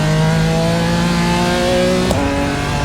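A BMW M4 in a racing simulator game at the Nürburgring accelerates hard, its engine note loud and rising steadily with no voices over it.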